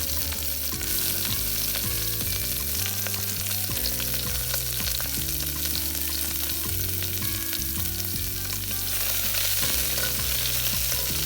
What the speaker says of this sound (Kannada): ಒಗ್ಗರಣೆ ಆದಮೇಲೆ ಅದಕ್ಕೆ ಕಟ್ ಮಾಡಿದ್ದ ಆನಿಯನ್ ಹಾಕ್ತಿದ್ದೇನೆ